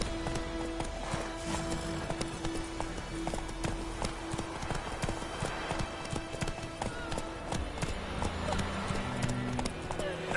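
A horse galloping in The Witcher 3, rapid clip-clop hoofbeats drumming steadily and fairly close over the whole stretch, with game dialogue and ambience faintly underneath.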